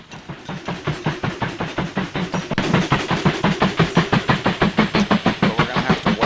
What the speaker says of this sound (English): Here comes the coal train.